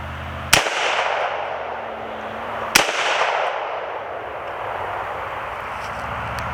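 Two sharp rifle shots from a newly built AR upper firing 55 grain .223 at steel targets, roughly two seconds apart, each a loud crack with a trailing outdoor echo, over a steady background hiss.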